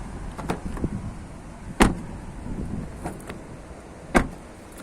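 A Mitsubishi Lancer's car door shuts with a few distinct thuds, one solid thump clearly standing out, alongside lighter knocks and faint handling noise, all close by and without talk.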